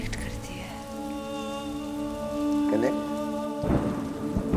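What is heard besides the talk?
rain falling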